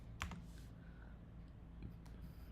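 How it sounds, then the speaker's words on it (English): A cat steps across a computer keyboard, pressing keys in a few scattered clicks and taps, fairly quiet against a steady low room hum. "My cat is typing."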